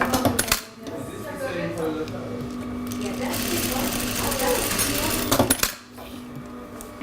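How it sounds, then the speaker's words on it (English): An industrial sewing machine stitches fabric while its thread tension is being tightened, a steady mechanical whir running through most of the span with brief starts and stops at each end, close and fairly loud. "we stitch it, and then we stitch it too loose, so therefore I'm tightening the stitching"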